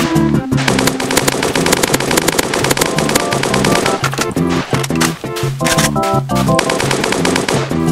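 Rapid, loud automatic AK-47 fire at zombies in the Roblox game A Dusty Trip, dense bursts running almost nonstop with brief gaps and layered game sounds.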